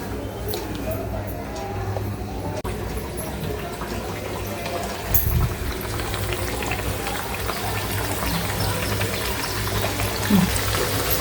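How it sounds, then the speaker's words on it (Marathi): Chakli spirals deep-frying in hot oil for Diwali, a steady broadband bubbling and hissing that runs throughout at moderate level, with a brief louder splash near the middle and a voice talking over it. "आपण ह्या एक एक करून खरपूस अशा तळून घेऊयात"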